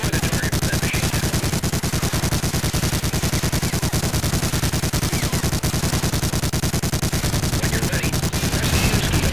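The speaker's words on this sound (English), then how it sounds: "Approach the MG-42 stationary machine gun and press the use key to take command of the weapon. Destroy the target with that machine gun." An MG-42 stationary machine gun fires in Medal of Honor: Allied Assault, a loud, continuous rapid burst of gunfire with steady rhythm lasting several seconds.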